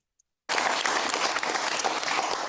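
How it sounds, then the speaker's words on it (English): Crowd of onlookers breaking into sustained, dense applause that starts abruptly after a brief silence and carries on steadily and loud to the end. "They're all clapping."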